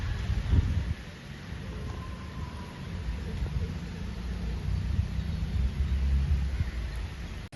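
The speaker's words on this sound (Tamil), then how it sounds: "மேலே மழை பெய்யுது" Steady rain falls on a rooftop terrace, a dense hiss of drops with low rumbling texture throughout, a brief louder knock near the start.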